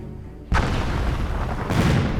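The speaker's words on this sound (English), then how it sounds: "Those defensive cannons have really long range." Defensive cannons fire at a submarine in the VR naval strategy game Battle Fleet 2, two loud, heavy booms about a second apart, each followed by a rumbling tail.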